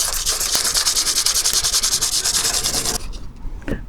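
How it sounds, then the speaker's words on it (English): Continuous rhythmic scraping of hand-sanding body filler on a car, quick back-and-forth strokes that stop near the end, followed by a couple of faint knocks. "It can be just straight sanding."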